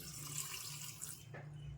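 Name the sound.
water being poured for amla juice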